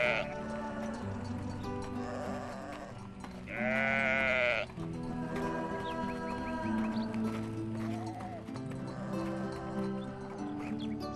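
Sheep bleat repeatedly at close range in a rural setting, one loud, sustained wavering bleat standing out mid-clip among softer calls and continuous farmyard background.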